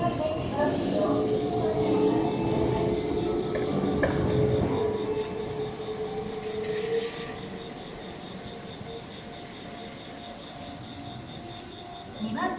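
A train at Tatebayashi station platform in the evening, a loud rumbling, hissing passage with tonal whine and clanks that gradually fades to a quieter steady background, with a station announcement voice heard over it.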